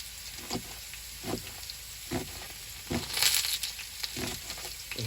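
Potatoes fry in a hot cast iron skillet at a deer camp, a steady loud sizzle with crackling bursts and a few louder pops, close and continuous with no voices.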